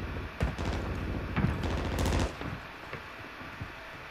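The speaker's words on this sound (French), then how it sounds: "il me tire dessus" Rapid automatic gunfire from the video game Warzone 3 in resurgence mode, several loud bursts of crackling shots in close succession with quieter scattered pops between them.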